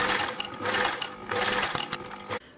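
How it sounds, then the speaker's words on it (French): A sewing machine topstitches a seam on a kit-made top at reduced speed, its close, loud mechanical whirr running in steady bursts with brief pauses before stopping. "on réduit un petit peu la vitesse de la machine pour aller doucement"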